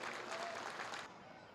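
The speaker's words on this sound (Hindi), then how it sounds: "एक बार जोरदार तालियों से स्वागत करें." An audience at a Hindu kirtan gathering claps in welcome for an honoured guest, a steady, fairly faint wash of applause that thins out toward the end.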